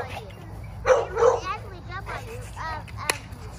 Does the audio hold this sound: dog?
yes